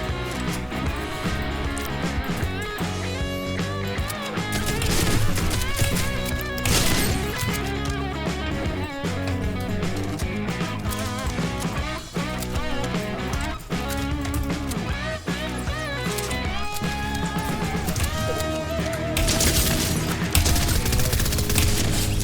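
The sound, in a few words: rapid gunfire from an SMG in a video game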